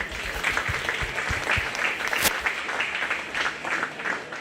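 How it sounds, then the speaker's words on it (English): Audience at a county fair applauding graduating seniors, a steady wash of many hands clapping that holds at an even level for the whole stretch. "So Braden Krause, give Braden a round of applause."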